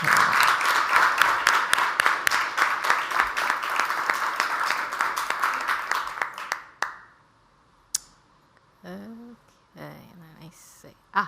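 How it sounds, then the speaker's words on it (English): A student recognition celebration audience claps for honored students, a loud run of many hands for about six seconds that thins into a few scattered claps and then stops, followed by a speaking voice. "I think we should do another applause."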